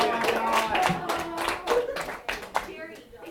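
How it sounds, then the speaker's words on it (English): Scattered clapping breaks out in a seventh-grade math classroom, a handful of hands beating irregular claps with children's voices chattering underneath and the noise thinning toward the end. "Give him a round of applause."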